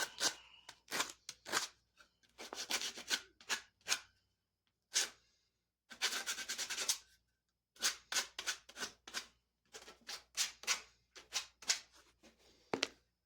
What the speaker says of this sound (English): you can sand the slivers off of it, the rough edges